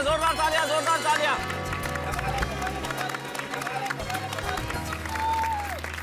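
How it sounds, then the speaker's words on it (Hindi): Loud audience applause and cheering after a dance performance, steady clapping under a noisy crowd and background music, with voices talking over it. "एक बार जोरदार तालियां, जोरदार तालियां, जोरदार तालियां"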